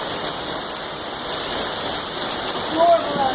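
Sudden heavy downpour of rain outdoors, a dense steady hiss of falling water close to the microphone throughout, with a faint voice briefly at the end.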